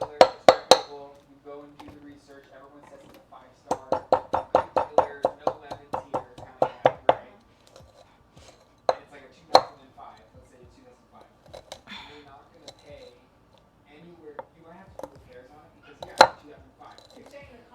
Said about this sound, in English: we're crushing the garlic and the chili into a nice paste and trying to break up the chili a little bit